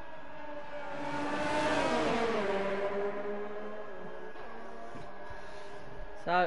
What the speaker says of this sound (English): We've got Gav trying to get past Supercart now in towards the end of sector 1